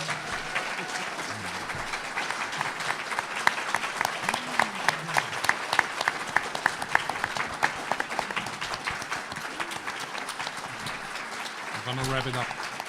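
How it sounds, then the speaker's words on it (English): A conference panel audience gives sustained applause, dense and steady clapping from a room full of people, with a voice speaking over it and a short burst of talk near the end. "Let's give them a huge round of applause."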